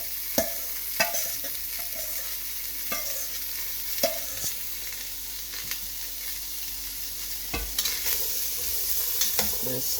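Spices and vegetables fry with a steady hiss and sizzle in a pan while a utensil scrapes and stirs at irregular intervals, close up, no talking.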